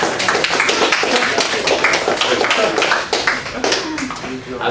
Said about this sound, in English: let's give you guys a warm round of applause